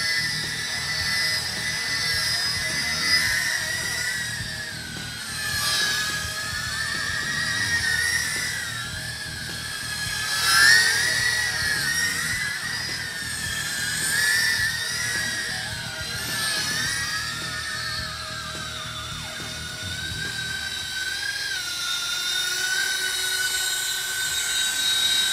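An Inductrix 200 micro drone fitted with a larger 1300 mAh battery hovers with a steady, high whining buzz of small propellers that wavers slightly in pitch, close and continuous.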